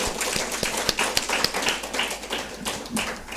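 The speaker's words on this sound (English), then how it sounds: "So can we have a huge round of applause for you?" Audience applause at an HR conference session, a scattered patter of claps with sharp individual hand strikes standing out, moderately close and steady, no speech over it.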